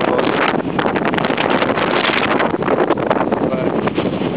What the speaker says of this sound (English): windy here in Boston.